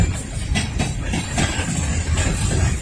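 An Amtrak Northeast Regional train rolls past through Lynchburg with a steady rumble, rhythmic wheel clatter and a faint hiss, close and fairly loud, and no voices over it.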